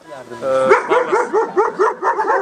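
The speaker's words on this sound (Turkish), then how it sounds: "Çok hırslı bir köpek." A very driven dog gives a quick run of about eight sharp, close barks and yips in rapid rhythm.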